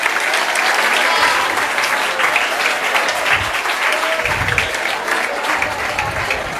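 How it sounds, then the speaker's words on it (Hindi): An audience at a career guidance programme breaks into loud, sustained applause to welcome a guest, a dense wash of clapping that holds for several seconds with faint voices under it. "मैं चाहता हूं कि ताड़ी की गड़गड़ाहट से उनका इस्तकबाल किया जाए।"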